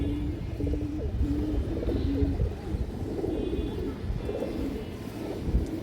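Several pedigree pigeons kept together coo in repeated low, throaty phrases, fairly close, over a soft background murmur.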